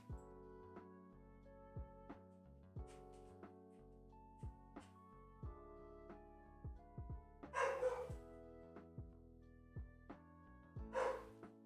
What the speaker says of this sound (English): Puppers is barking up a storm out there.